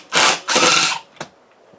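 A power drill backs screws out, two short close whirring bursts followed by a brief third buzz, then quiet.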